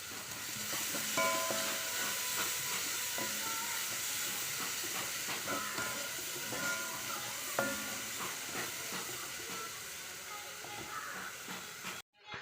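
Onions frying in a pan with salt while making spicy kara kozhukattai, a steady close hiss and sizzle running throughout with small crackles, no talking.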